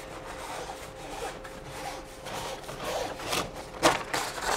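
Fingers rub an adhesive repair patch firmly onto a clean, dry sail, making steady dry scuffing strokes close by that grow a little louder and denser toward the end, with no talking.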